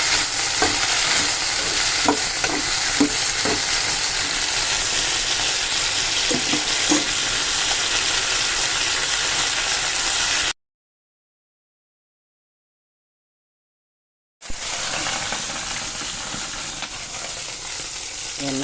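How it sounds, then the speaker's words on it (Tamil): Pirandai, green chili and garlic sauté in hot oil in a pan, giving a steady close sizzle broken by scraping stirs for about ten seconds. The sound drops out briefly, then the frying sizzle returns. "பிரண்டை மிளகாய் பூண்டு, மூணு வச்சுட்டு நல்லா வதக்கணும்."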